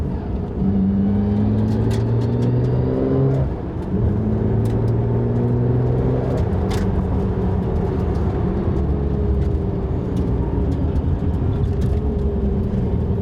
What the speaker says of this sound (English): Let's just let you see a little bit of driving, shall we?